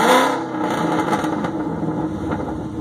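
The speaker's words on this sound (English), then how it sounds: "Let me give you guys a quick little rev up." A Ford Mustang with a Coyote V8, long tube headers, a BBK off-road X-pipe and a catless Roush exhaust revs loudly up close, a strong blip at the start settling into a rough, sustained idle-to-rev roar.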